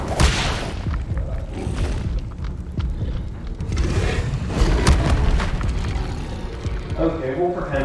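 Incendio fire spell blast in a Harry Potter video game, a rumbling, booming whoosh that swells and rolls on for several seconds, with voices speaking over it.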